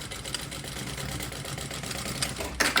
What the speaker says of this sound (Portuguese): E eu vou fazer uma costura por esse lado